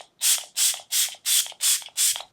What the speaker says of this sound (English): I'm gonna go ahead and spray my face with this Milk Hydro Grip